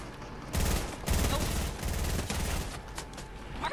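Rapid bursts of gunfire from a Fortnite match crackle in quick volleys with short gaps between, loud and close, then trail into scattered fainter shots.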